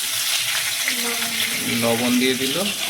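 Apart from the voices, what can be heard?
potatoes frying in oil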